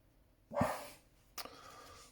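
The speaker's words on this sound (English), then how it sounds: "sorry, dog's barking." A dog barks once, short and fairly loud, from somewhere nearby indoors, followed a moment later by a brief click and quiet room tone.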